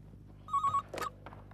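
An indoor telephone rings softly, a short warbling electronic ring followed by a faint clatter, set against a low steady hum.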